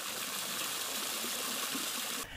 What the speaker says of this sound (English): Water was added to an 18-gallon plastic storage container.